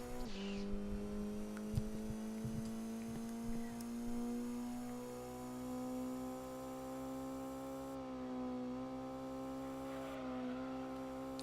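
Race car engine in Gran Turismo 2 held at top speed, a steady sustained drone with a slight pitch shift partway through, loud and continuous with no voices.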